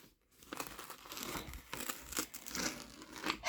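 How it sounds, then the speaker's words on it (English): Heat transfer vinyl is peeled slowly while still hot from a T-shirt, giving a close, continuous crinkling, tearing rasp that builds gradually and grows louder toward the end, without talk. "it's a hot peel, so let's go for it. I'm going to peel it off"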